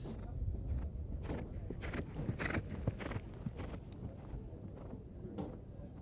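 Horses' hooves clip-clop on the ground at the British Open 2023, Dubai vs Marques de Riscal, with a steady stream of close, overlapping hoofbeats against a busy outdoor background.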